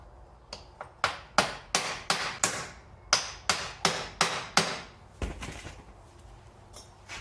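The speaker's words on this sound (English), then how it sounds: "put the nut on, and then we'll just tap it in" A hammer taps a replacement CV axle into place on the passenger side of a 2004-2009 Toyota Sienna, giving about a dozen sharp, close metallic strikes in a steady rhythm, then a pause and a softer knock.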